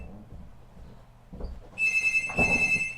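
Telephone bell ringing, a loud, close, shrill ring starting partway through after a few quiet room noises, with a second burst following a short pause.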